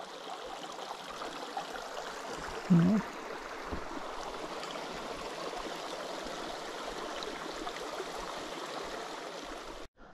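A flowing river along the Minong Ridge Trail rushes steadily and broadly, a constant close wash of water, with a brief voice cutting in once near the start.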